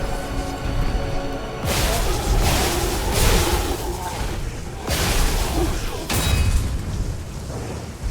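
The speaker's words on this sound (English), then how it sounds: "Throw this grenade at him." A grenade blast in the action game Lies of P, heavy booming bursts layered over a dense, loud game soundscape, with speech-like sound present throughout.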